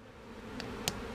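Honey bees in a hive that has a laying queen and is backfilling cells with honey and pollen, giving a soft continuous low drone with a couple of brief brighter buzzes passing close by.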